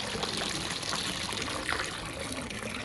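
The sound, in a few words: water being poured out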